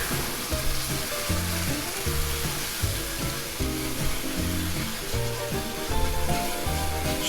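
Milk poured into a sizzling pan for country fried steak gravy, a continuous loud frying hiss beneath a repeating rhythmic musical backing.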